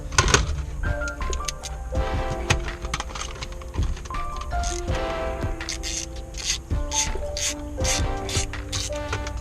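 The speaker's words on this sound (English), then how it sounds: "Looks like I'm gonna need a deep socket 10 to remove these." Deep 10 mm socket ratchet removing bolts from the dash of a 2003 Mercury Marauder, with rapid, repeated pawl clicking in close bursts, interspersed with metallic taps and rubbing, no talking.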